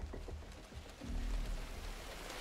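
Rain from the video game The Division 2 hisses softly and steadily, with faint scattered drops and a low rumble rising in the middle. No voices are heard.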